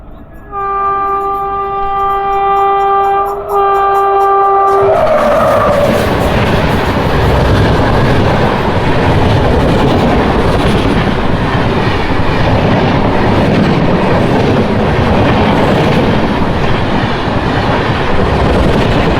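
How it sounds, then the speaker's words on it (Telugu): Janmabhoomi Express, train 12806 from Lingampalli to Visakhapatnam, sounds a long multi-tone horn, then roars past close by with loud, steady wheel and carriage rumble and rattling clatter. "లింగంపల్లి నుంచి విశాఖపట్నం వరకు వెళ్ళే జన్భూమి ఎక్స్ప్రెస్ అయితే వచ్చేస్తుంది"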